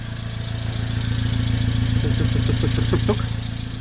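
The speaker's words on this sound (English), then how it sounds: "Engine is working good." A 1990 Subaru Sambar 4x4 truck engine idles close by with a steady, even drone and a few light clicks and knocks near the end.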